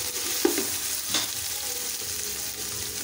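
Spices tipped into hot oil in a pan for palak chicken fry with a steady sizzle, stirred with a couple of soft scrapes, close up and with no talking.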